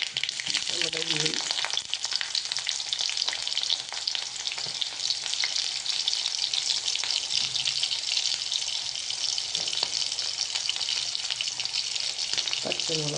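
Mustard seeds, onion and green chillies fry in hot oil for a Kerala cholapodi upma, a steady close sizzle running throughout with occasional stirring scrapes in the pan.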